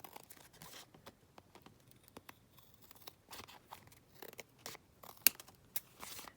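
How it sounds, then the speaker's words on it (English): Scissors trim along the side of paper for a junk journal, producing short, irregular snips and soft paper rustles with quiet pauses in between, close and fairly faint. "And just trim it down here along the side as well."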